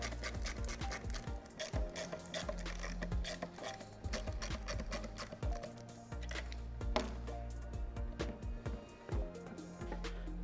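Screws backed out of factory fog lights on a 2005-2009 Mustang, a faint run of quick clicking ratchet strokes and scraping taps in short irregular bursts, close by.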